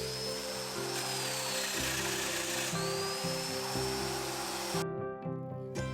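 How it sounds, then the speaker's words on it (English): A domino joiner whines steadily at high pitch as it cuts mortises into wooden leg pieces for a mid-century modern bed frame, running loud and continuous before cutting off abruptly near the end, with a low hum remaining. "I can now use my domino joiner to create some mortises"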